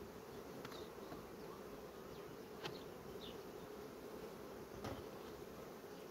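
Honey bees drone steadily at a hive in a soft, continuous buzz, with a few brief louder passes as individual bees fly close.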